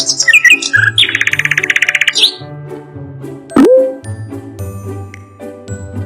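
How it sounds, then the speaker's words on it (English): A nightingale singing in quick trilling, chirping phrases near the start, set against bright tinkling chimes and a bouncy musical backing that continues after the birdsong fades. "Nightingale."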